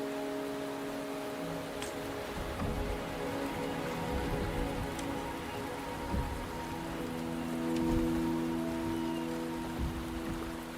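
Steady rain falls in the video game Wuthering Waves, a soft continuous hiss of drops with occasional louder patters, layered over a low, sustained musical drone for the whole stretch.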